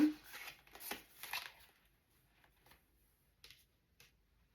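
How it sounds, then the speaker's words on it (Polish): Cards from a deck are handled and drawn, with a burst of quick papery riffles and slides at the start followed by a few soft, isolated flicks and taps in near silence. "Jeszcze wezmę jedną kartkę."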